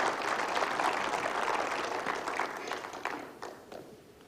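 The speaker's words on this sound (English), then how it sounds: "you give the Lord a hand clap" A church congregation claps for the Lord in a steady burst of hand clapping that fills the room, then thins out toward the end with a few scattered claps.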